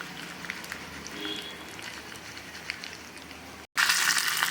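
Mustard seeds, dry red chillies and a few curry leaves fry in oil for a curry leaf chutney tempering, a soft crackling sizzle with scattered pops, then a sudden cut to a louder, harsher burst of sizzling.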